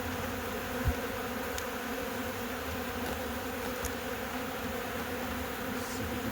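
Honey bees buzzing around an opened hive during a honey super harvest, a faint steady drone of many insects with a few soft knocks, no talking.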